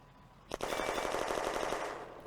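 Rapid machine-gun fire from a Panzer III on Soviet infantry in the war game Firefight starts with a sharp crack and continues as a steady, loud rattling burst for nearly two seconds.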